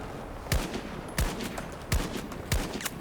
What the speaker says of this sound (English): Oh, them were 3 perfect shots right there.